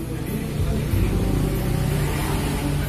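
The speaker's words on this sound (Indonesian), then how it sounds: "Ini saya gas mentok ya." A car engine held at full throttle, its steady roar filling the space continuously and loudly while the throttle position sensor is tested for a fault.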